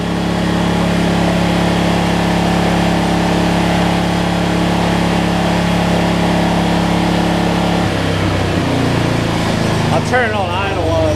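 A Generac 7500EXL generator engine with a faulty low-oil sensor runs steadily and loudly up close, a constant droning hum that shifts and drops near the end, as if the throttle eases off.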